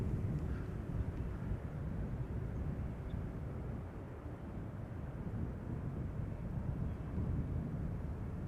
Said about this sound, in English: BizJet having taken off from runway 22